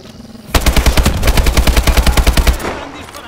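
Sustained automatic gunfire in Call of Duty: Advanced Warfare, a loud rapid burst of evenly spaced shots lasting about two seconds, preceded by a quieter lead-in and tailing off at the end.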